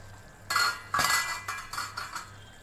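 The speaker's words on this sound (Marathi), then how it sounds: "झाकण लावूया आपण त्याला." Metal lid set onto a pan of cooking peas in gravy: a few quiet clinks and clanks of metal on metal in a short uneven series, close by and with no talking.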